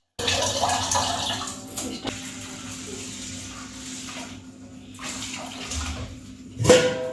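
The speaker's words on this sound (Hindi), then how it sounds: "तो इसे अच्छे से हम धोएंगे 2-4 पानी" Chickpeas being rinsed in water at home, a steady splashing and sloshing wash with a few louder bursts, close and continuous with no talking.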